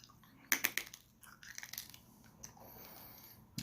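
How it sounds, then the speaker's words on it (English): A Necco wafer candy bitten and crunched close up, a few sharp dry snaps followed by quieter, scattered chewing crackles with no talking. "It has a pretty dry crunch."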